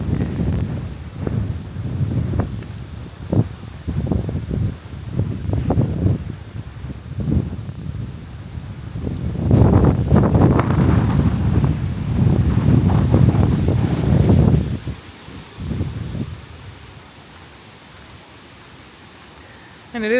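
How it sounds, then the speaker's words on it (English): Strong wind buffets the microphone beside the water at a MacGregor 26M sailboat on a sunny day, gusting in uneven bursts, then roaring in a loud sustained stretch before easing off near the end. "It's really windy."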